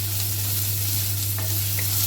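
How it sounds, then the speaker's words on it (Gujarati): Chopped onions sauté in a pan for homemade paneer butter masala, giving a steady, close hiss of sizzling oil with a faint stir near the end and no talk. "થોડુંક સંતળાવા દઈશું આપણે ડુંગળીને"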